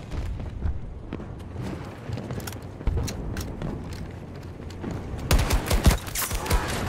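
Gunfire in the video game Battlefield 2042, bursts of rapid shots and a sharp blast over a rumbling battlefield background, growing denser and louder toward the end.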